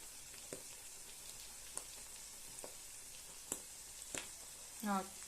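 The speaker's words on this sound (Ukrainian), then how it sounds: "Чуєте, як вони пострілюють? Це означає, що вони вже майже готові." Faint frying of butter mushrooms in sour cream in a pan, with scattered sharp pops and crackles at irregular intervals, and a brief sizzle burst near the end.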